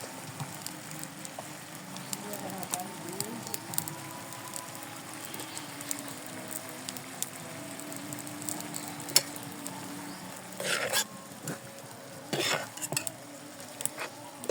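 A utensil stirs turmeric into tomato chutney in a pan, with faint scraping and clinking against the metal over a low sizzle, quiet and close, with a few louder scrapes near the end.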